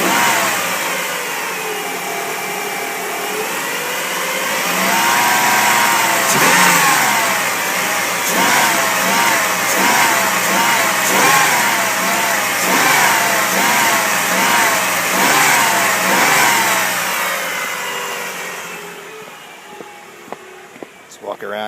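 The engine of a battered 2005 Dodge Caravan idles and then revs up and down in repeated rising and falling pulses, loud and close, with people talking over it now and then.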